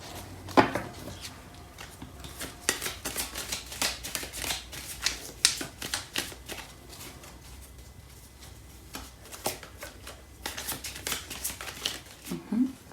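A Starseed Oracle tarot deck is shuffled by hand in a long run of quick, crisp riffling card flicks and soft shuffles, close and steady over about thirteen seconds, with brief rustles and a faint voice at moments.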